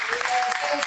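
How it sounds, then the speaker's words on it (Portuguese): A church congregation at a worship service claps in a brief, dense burst of applause, steady and fairly loud for under a second. "Você pode aplaudir mais forte ao Senhor?"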